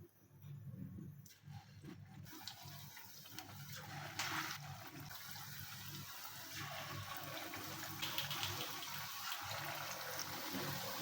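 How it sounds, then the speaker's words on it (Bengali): Lentil kebabs without meat fry in very hot oil, giving a broad, rushing bubbling hiss that swells as more kebabs go in, with a few soft knocks near the start; fairly quiet and without speech. "এখন আমি এক এক করে সবগুলো কাবাব দিয়ে দিচ্ছি।"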